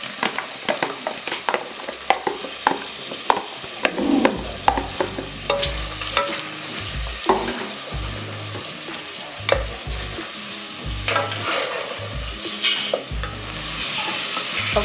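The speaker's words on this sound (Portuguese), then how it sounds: "refogar a cebola" Chopped onion sautéing in a pan for cuscuz caipira, a steady close sizzle broken by repeated scraping and clattering stirs of a utensil, with no talking.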